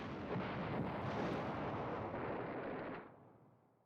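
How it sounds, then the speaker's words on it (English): An artillery battery firing in the Command Ops 2 wargame, set in Poland 1939 in the Beskid Mountains, a rumbling blast that rolls on for about three seconds before fading away, heard alone with no talk. "that artillery battery is burning through ammo a little bit faster"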